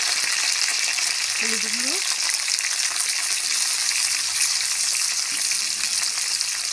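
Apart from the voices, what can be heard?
taro (kochurmukhi) frying in a pan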